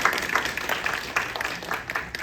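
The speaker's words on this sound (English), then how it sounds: "a round of applause for our presenters" An audience at a community mental health event applauds the presenters, a brief spell of moderate, uneven clapping from a modest crowd in a room.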